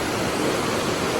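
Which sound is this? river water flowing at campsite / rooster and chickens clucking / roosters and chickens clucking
river water flowing at campsite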